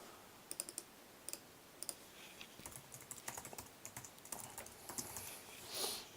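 Quiet typing on a computer keyboard to enter login information: scattered, light key clicks close by, irregular in rhythm and growing a bit busier over a few seconds.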